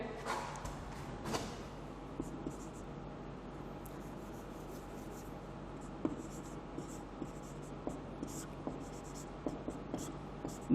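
Marker or chalk scratching on a classroom board during a chemistry lesson, a faint irregular series of short strokes and taps spread across the clip, quiet against a steady room hiss, with no talk.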